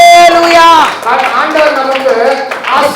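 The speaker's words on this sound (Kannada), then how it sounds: "ಚಪ್ಪಾಳೆ ಜೋರಾಗಿ ಕೈಗಳನ್ನು ತಟ್ಟಿರಿ." A church congregation claps hands loudly during a Kannada and Tamil sermon, the claps forming a busy patter under a prominent voice.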